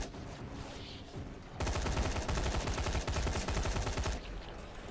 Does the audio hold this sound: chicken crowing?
no